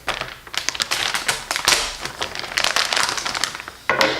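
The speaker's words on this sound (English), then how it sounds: "So we made a little bit of a cut there. We're gonna pull it open to actually see the mud flaps." Plastic packaging around Rally Armor mud flap hardware is cut and pulled open, giving close, crisp crinkling and tapping bursts in an uneven rhythm.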